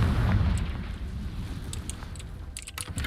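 Confringo fire spell explosion in Hogwarts Legacy, a low booming rumble that swells at the start and decays across the clip, followed by a few sharp ticking clicks toward the end.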